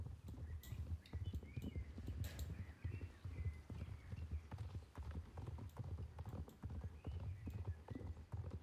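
Horse hooves clip-clop steadily at a walking rhythm as a horse is ridden in the online game Star Stable Online, close and continuous with a brief whinny near the start, under faint background sounds.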